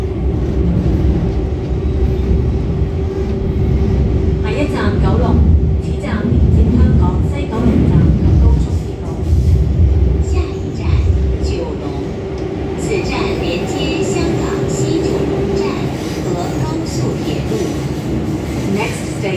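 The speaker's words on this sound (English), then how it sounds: "I got very lucky that I'm on a K-Train instead of an A-Train" A Hong Kong MTR K-Train on the Tung Chung line rumbles steadily along the track with rhythmic wheel clatter and occasional squeals, while people talk faintly in the carriage.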